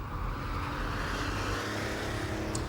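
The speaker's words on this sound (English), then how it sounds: "listening to the cackle of that wonderful air-cooled six-cylinder engine" An air-cooled six-cylinder engine in a roughly 30-year-old supercar drones steadily and loudly throughout, a dense unbroken roar with no voices.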